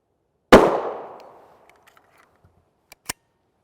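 A single sharp 5.7x28mm gunshot fired from a 5.2-inch barrel cracks loudly and rings out into a decaying echo, followed by a few faint clicks and a couple of small sharp taps.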